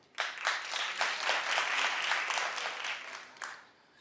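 Studio audience at a daytime talk show breaks into applause that swells quickly, holds steady for a few seconds and then tapers off, with a few separate claps rising near the end.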